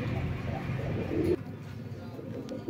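Soft, low cooing of Oman bloodline pigeons murmurs close by, then breaks off abruptly, leaving faint background noise.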